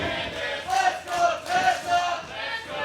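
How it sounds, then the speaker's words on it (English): Wrestling arena crowd at a women's match between Tessa Blanchard and Candice LeRae, split in its support, chanting and cheering in rising and falling waves that swell loud every half second or so, with whistles cutting through. "And you can hear the crowd. They are completely divided."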